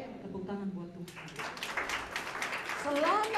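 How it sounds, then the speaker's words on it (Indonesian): Church congregation clapping, a burst of applause starting about a second in and continuing steadily, with a voice sustained over it at the start and end. "Tepuk tangan buat Tuhan."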